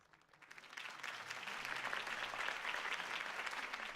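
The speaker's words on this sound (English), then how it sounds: "could have heard that applause" Crowd applause in the video game Batman: The Telltale Series, swelling from a faint start into steady, dense clapping that holds for several seconds, somewhat distant and even.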